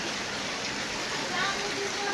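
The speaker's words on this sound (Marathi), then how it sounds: "जरा पण थांबायला नाव घेत नाही पाऊस." Continuous heavy rain in Pune falls as a dense, steady hiss of drops without pause, moderately loud and unbroken for the whole short stretch.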